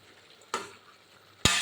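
Vegetables for avial, with crushed garlic, green chilli, shallots and curry leaves, stirred in a pan: two sharp scraping bursts of the spoon over a faint low background.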